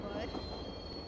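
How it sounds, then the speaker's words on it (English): Steady rail noise with squealing wheels and a faint high whine as a passenger express pulls into a station platform in a mobile train simulator game, continuous and fairly close. "12655 Passenger Express is arriving at platform number 7."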